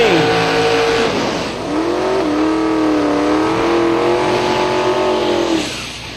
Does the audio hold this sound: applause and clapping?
no